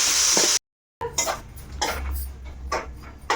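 A lid set onto a cooking pan on the stove, with a clunk followed by light clattering and sizzling knocks of metal cookware.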